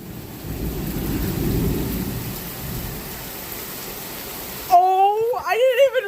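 Heavy rain and rolling thunder outside a house, a steady close wash of downpour with low rumbling swells, ending in a short voiced sound.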